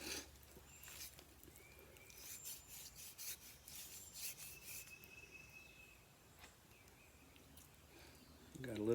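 A knife trims raw beef brisket with soft, repeated scraping and rubbing strokes. The sound is faint and close, with a slightly louder scrape at the very end.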